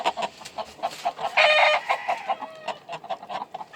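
A brassy back chicken clucks nearby in a run of short, quick calls, broken midway by one longer, drawn-out squawk.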